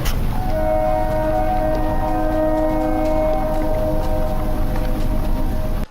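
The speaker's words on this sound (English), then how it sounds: "I hear a train throughout the video" A train rumbles past at night, a loud, steady low roar with sustained horn-like tones running throughout, close and continuous with no voices over it.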